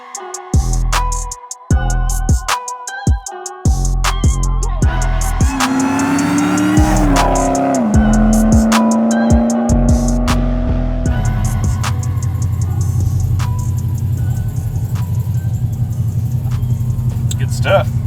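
A 900 whp Dodge Demon roars hard through a highway pull, engine screaming upward through gears with loud sustained rumble and whine, shift breaks between rising tones, close and overwhelming throughout.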